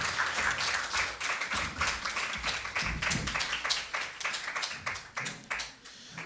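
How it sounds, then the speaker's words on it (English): Audience applause at a school debating competition, a steady wash of many hands clapping that carries on at even loudness for several seconds with no talk over it. "Let's give them a round of applause"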